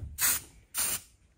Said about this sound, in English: And I'm just going to spray the front of each of these.